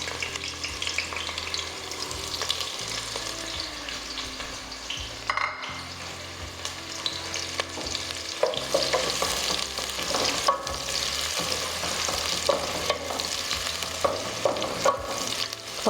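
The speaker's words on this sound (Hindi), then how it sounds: "मटर पुलाव बना रहे हैं, उसमें डाल देंगे हम पहले ये प्याज" Onions frying in oil for matar pulao, a steady sizzle with stirring and scraping in a pan running throughout, with occasional clinks and louder crackling bursts partway through, no voices.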